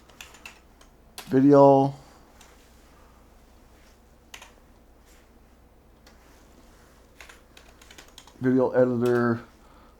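Sparse clicks from a computer keyboard while text is typed into a video editing program, scattered between two short bursts of someone talking.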